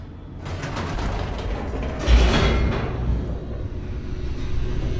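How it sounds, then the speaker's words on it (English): An elevator descends in The Stanley Parable, a loud mechanical rumble with grinding, ratcheting texture that swells into a heavy surge midway and keeps droning steadily afterward. "The elevator raced downward"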